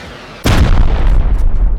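A rocket or C4 charge explodes in the survival game Rust: a sudden heavy boom strikes after a short quiet lead-in. Deep rumbling debris follows and rolls on to the end.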